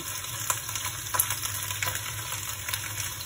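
Spring onion sautéing in a pan with pork, a steady close sizzle and frying crackle with light stirring clicks throughout, no talking.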